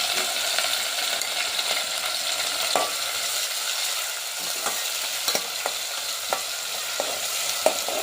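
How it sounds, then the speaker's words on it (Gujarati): Papaya is tempered in hot oil with curry leaves, green chillies, garlic and popped mustard seeds, giving a steady close sizzle broken by light scraping and clicking stir strokes, with no talking. "લીમડો મરચાં અને લસણ બધું ભેગું છે પપીતા વઘારવાના છે"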